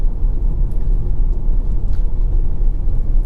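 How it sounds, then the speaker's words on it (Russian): Low, steady road rumble fills the cabin of a 2021 Haval H6 driving over rough, poor-quality asphalt, a dense constant drone with faint higher hiss and no voices. "В салоне уже на таком асфальте появляется чуть больше шума."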